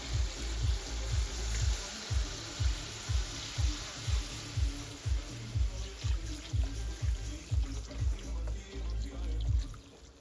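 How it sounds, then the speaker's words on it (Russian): Water is poured into a big cauldron of bograch over a campfire, with rhythmic gulping pulses as the flow sloshes in steadily, fairly close. "Заливаємо воду."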